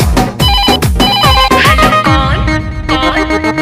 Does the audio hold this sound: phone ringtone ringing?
yes